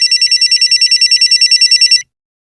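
A telephone rings at a police station, a loud electronic trill pulsing rapidly and evenly for about two seconds before cutting off into silence.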